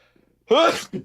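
A single sneeze, a sharp loud burst with a breathy inhale lead-in, followed by a short vocal sound right after, in a quiet indoor setting.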